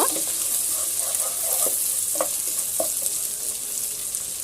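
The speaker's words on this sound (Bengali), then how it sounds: "আর 1 মিনিটের মতো আমি চিকেনটা আর ডিমটাকে ভেজে নিব" Boiled spiced chicken pieces and egg fry in a pan with a steady, even sizzle and a few soft stirring scrapes, no voices.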